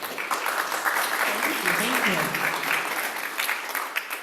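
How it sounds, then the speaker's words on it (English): Attendees at a spring neighborhood association general meeting applaud warmly, a steady patter of clapping from a modest crowd while a voice briefly speaks over it. "So please give her a warm hand of applause."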